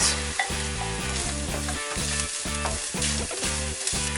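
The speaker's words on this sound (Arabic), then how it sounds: "حطينا الزيت، خليها تسخن شويه، ننزل بالبصل، كاروت" Onions and carrots fry in hot oil for beef fried rice, a steady loud sizzle with rhythmic stirring scrapes repeating about every half second, close and without talk.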